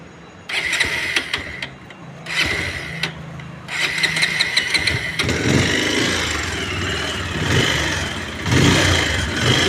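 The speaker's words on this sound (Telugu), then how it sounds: "ఒకసారి మనం బైక్ అయితే స్టార్ట్ అయితే చేసి చూసుకున్నాం" A 2021 Bajaj Pulsar 220F motorcycle in near-new condition starts up and idles, with its engine rising in repeated bursts of revving and a loud, steady run between them.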